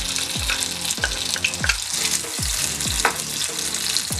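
Chopped onion dropped into a hot pan with garlic and chili for baked beans and saltfish, bursting into loud, steady sizzling frying with repeated stirring scrapes and clatters throughout, no voices.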